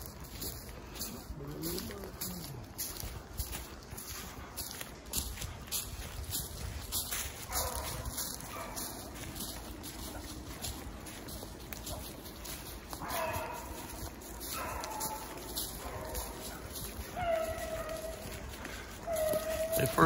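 Hunting dogs bark and bay while running outdoors, the barks scattered and mostly distant, rising louder toward the end, with birds calling and occasional voices.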